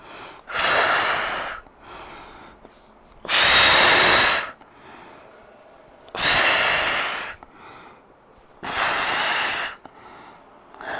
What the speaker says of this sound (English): Exhale up, inhale back.